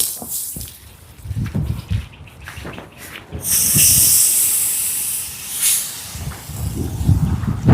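Chicken cubes sautéing in fish sauce for tinola give off a steady hiss and sizzle that swells loudly midway, with soft clatter underneath.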